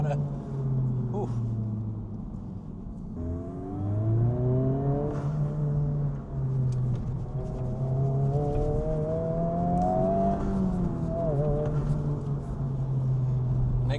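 A Mazda Miata engine accelerating from inside the car, rising and falling rev sweeps through several gear changes under steady road noise, with a person talking over it.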